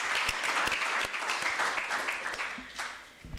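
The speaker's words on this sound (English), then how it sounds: "Can we give CAMS a round of applause?" Audience applause at a university College of Economic and Management Sciences research and innovation event, a dense burst of many hands clapping that fades toward the end, with a few louder individual claps near the start.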